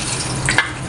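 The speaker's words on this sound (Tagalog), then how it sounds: "Prito na namin yan." Brief, steady sizzle of bananas frying in hot oil, with a couple of small pops and crackles close by.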